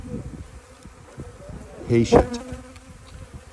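Honeybees buzz around a branch carrying the queen's pheromones, a steady close hum with one nearer bee passing loudly; a voice speaks briefly.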